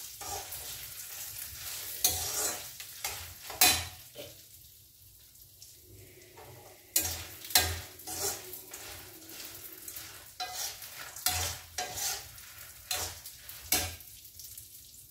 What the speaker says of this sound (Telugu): నేనైతే స్టవ్ సిమ్లో పెట్టి వేయించుకుంటున్నాను